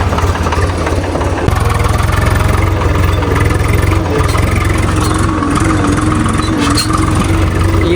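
A tractor engine runs steadily in a field during the last day of wheat sowing, a loud continuous low mechanical drone that holds at an idle-like throb without pause.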